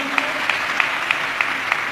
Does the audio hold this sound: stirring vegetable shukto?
no